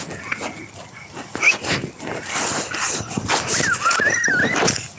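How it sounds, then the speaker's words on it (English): Duchess, a puppy on a walk, gives a few short whimpering, yelping barks amid rustling footsteps and outdoor noise. The sounds are close and intermittent, and a person talks faintly in the background. "There's the puppy."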